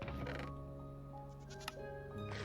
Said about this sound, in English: Some goats. Oats and goats.